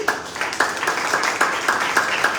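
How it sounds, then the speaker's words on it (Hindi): An audience at a church sermon applauds steadily, a dense wash of many hands clapping with faint rhythmic peaks throughout. "प्रेज़ गॉड, तालियां बजाइए।"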